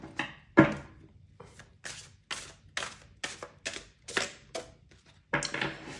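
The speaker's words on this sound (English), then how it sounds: "it's difficult to shuffle, but I'm getting used to it actually" A giant-size Rider-Waite tarot deck is shuffled up close, giving a run of crisp, papery card riffles and slaps in short repeated bursts with brief pauses between them, and no talking.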